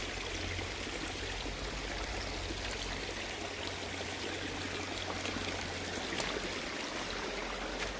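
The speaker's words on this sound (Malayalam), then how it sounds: "എന്താ ഇതിൻ്റെ ഉള്ളിൽ നിന്നാണ് വെള്ളം വരുന്നത്." Water gushing steadily out of a pipeline at Kachithodu check dam, a continuous broadband rushing flow with a low rumble, even and unbroken for the whole stretch, with no voices.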